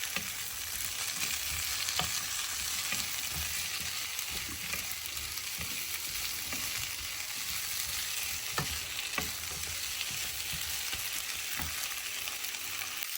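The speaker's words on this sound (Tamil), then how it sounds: "அதையும் ஒரு நிமிஷம் வடிவாக கலந்து கொடுப்போம்" Vegetable stew with green beans being stirred in a frying pan, a steady sizzle and frying hiss running throughout with soft scraping stir strokes, close and even, no talking.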